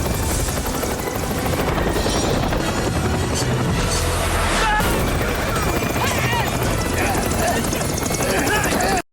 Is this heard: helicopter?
yes